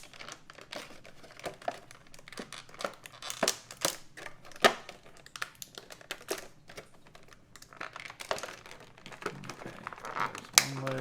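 A G.I. Joe Scarlett action figure being worked free of its plastic packaging, with close, irregular crinkling and sharp plastic clicks and snaps, some louder pops scattered throughout.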